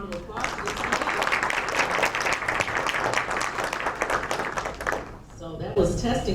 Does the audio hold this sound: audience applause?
yes